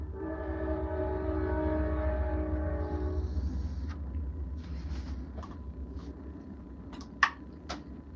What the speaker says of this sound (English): That's an Amtrak train too.